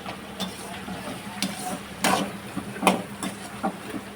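Salted onions frying in a pan for stuffed bitter gourd curry, with a constant sizzle broken by irregular scraping and tapping stir strokes at close range.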